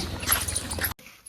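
A dog whimpers and yips close by in a short, loud burst of high whining cries that stops abruptly, followed by near silence.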